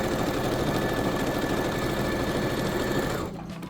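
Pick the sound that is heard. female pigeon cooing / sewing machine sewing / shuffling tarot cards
sewing machine sewing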